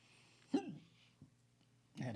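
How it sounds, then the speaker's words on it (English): A single hiccup-like burp bursts out of a quiet background, followed by a faint click and then a louder, rougher throat noise near the end. "I had a hiccup burp."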